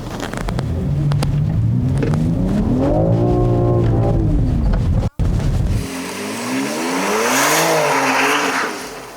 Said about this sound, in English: thing that this BMW X3M can do is drive in the snow